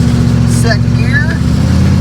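Ford Mustang hot rod engine pulling in second gear, a steady loud mid-range drone with a brief voice-like sound over it partway through.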